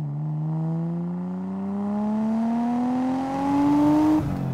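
Nissan R34 Skyline sedan with an RB engine making 330 hp, revving steadily higher under hard acceleration with a rising engine tone, then a sharp, abrupt downshift at the end.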